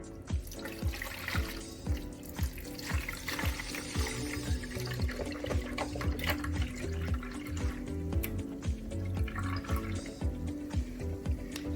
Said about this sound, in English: I'm going to go ahead and add some water.